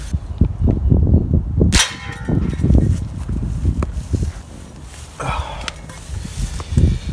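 .22LR rifle shot striking steel camping plates outdoors: one sharp, loud crack with a metallic ring, set among steady background noise and low rumbling.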